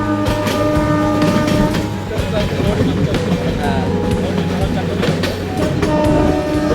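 The Uttarbanga Express runs on its rails with a steady, loud rumble and rhythmic clickety-clack that continues throughout, while voices can be heard over the train noise.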